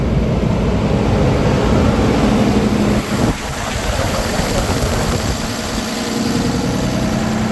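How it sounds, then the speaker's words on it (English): The cooling fan of a 2012 Freightliner M2 Altec forestry bucket truck runs as a loud, steady engine-and-fan roar that dips briefly midway and then holds on, with nobody speaking. "You can hear there, the fan of the truck just turned on."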